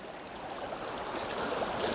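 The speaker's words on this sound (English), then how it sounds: "Let the water run out." Water runs out of a modular expandable sluice box as its top is lifted for a clean out, a soft, steady wash of trickling flow that swells slightly over two seconds with no talk.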